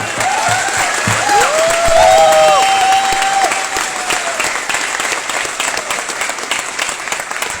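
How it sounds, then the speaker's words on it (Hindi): Loud, dense applause from a large audience at a team-building leadership event, a continuous roar of clapping with a few whistles rising through it near the start, steady throughout. "मेरा ख्याल से जोरदार तालियां"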